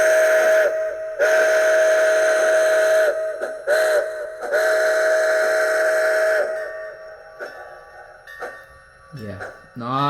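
Athearn MT-4 model locomotive's sound system blowing a steady steam-style whistle in several long and short blasts, then quieter mechanical chuffs, with someone speaking between.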